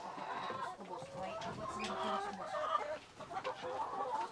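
Rhode Island Red, native and Dominant CZ chickens being fed forage, a flock clucking and murmuring continuously at moderate distance, fairly quiet and alone.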